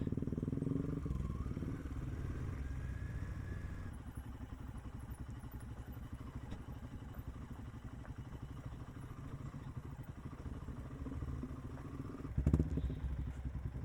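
A motorcycle crawls over a slow off-road stretch in first gear at half clutch, its mid-pitched engine thrumming steadily with the odd clatter and a thump near the end, and no talking.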